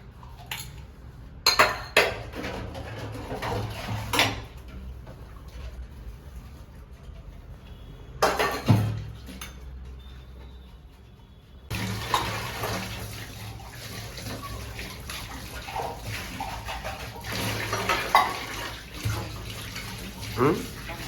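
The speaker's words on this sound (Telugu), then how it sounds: "గిన్నెలు అయితే తోమేసుకుంటున్నాను" Running tap water with intermittent clinks of dishes and utensils being scrubbed and rinsed, in bursts with pauses, close by and moderately loud.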